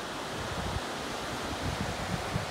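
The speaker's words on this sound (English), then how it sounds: "the beautiful view of the raging and foaming waves from horizon to horizon" Broad, continuous roar of raging, foaming ocean waves breaking along a shore, a steady wash of surf with low rumbling surges and no voices.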